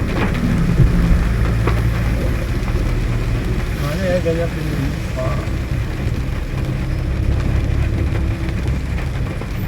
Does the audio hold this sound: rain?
yes